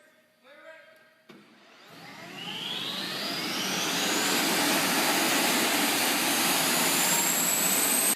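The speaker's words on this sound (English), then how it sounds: "Within seconds of climbing in the cockpit, the pilots are ready to fire the engines" Military fighter jet engines on an Air National Guard alert aircraft start up: a brief clatter and low hum give way to a rising, whining roar that grows steadily louder and fills the air, close by.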